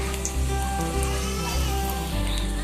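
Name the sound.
banana flower vada frying in oil on medium flame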